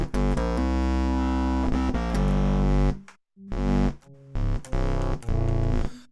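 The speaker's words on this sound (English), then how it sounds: "octave sounds with it, and distortion sounds, which is really cool." EarthQuaker Devices Bit Commander octave synth pedal with distortion played through an amp, loud sustained fuzzy synth-like guitar chords and notes with a brief silent gap midway, then choppy stabs.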